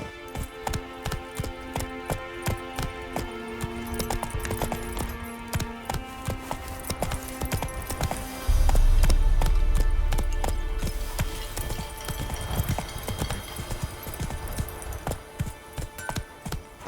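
Hoofbeats of the horse Roach galloping in The Witcher 3 pound in a fast, steady rhythm over game music, with a heavier thump midway; no one talks.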